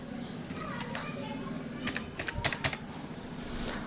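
Keys tapped on a computer keyboard while entering a six-digit OTP for an Aadhaar login: a faint, sparse run of quick clicks clustered near the middle over a steady low room hum.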